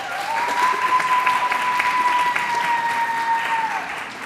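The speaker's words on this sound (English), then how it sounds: "Please, let's give them both a round of applause." An audience claps steadily at a Newark mayor's book club launch, a dense, even patter sustained for about four seconds with a faint steady tone running underneath before it eases off.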